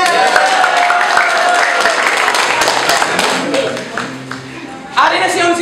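An audience claps for a poet at a Binalaybay poetry battle. The applause is loud and steady and fills the clip, with a voice talking over it.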